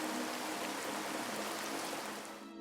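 Heavy rain pours steadily, a dense even hiss close by that fades out at the end, no voices.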